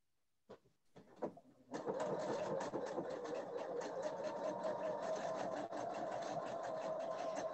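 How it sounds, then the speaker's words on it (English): A sewing machine runs steadily along a fabric edge while piecing half-square triangle quilt blocks, starting after a few brief handling clicks and then humming with a fast, even stitching rhythm close up. "And I'm just going to sew that edge."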